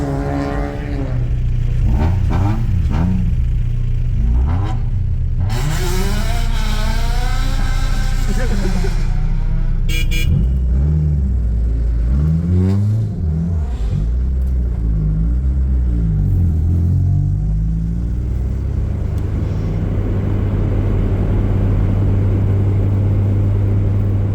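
A VW Golf 2 with a 20V turbo engine pulls away, its loud engine rumble rising and falling through gear changes and revving, with clattering and wind noise throughout and voices faintly in the cabin.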